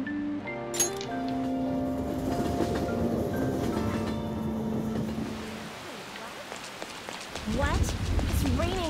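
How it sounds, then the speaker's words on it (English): Heavy rain falls in the Persona 5 video game, a dense, steady patter that sits under sustained game music and then continues more openly near the end. "It's raining really hard."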